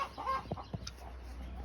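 Chickens at a backyard compost pile give a few soft, quick clucks over a low, steady background, faint and brief.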